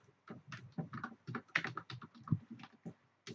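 Keystrokes on a computer keyboard as someone types C++ code, a fast irregular run of close, crisp clicks and taps with no talking.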